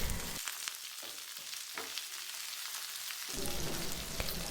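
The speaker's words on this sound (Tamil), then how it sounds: "ஸோ இப்போ பார்த்தீங்கன்னா காய் நல்லா வதங்கிட்டு இருக்கு" Chopped ivy gourd sautéing in hot oil for a crispy fry, a dense, close sizzle like light rain, briefly dropping lower before swelling back up.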